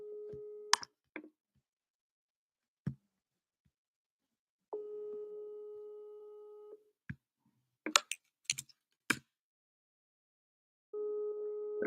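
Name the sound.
telephone call tone while calling back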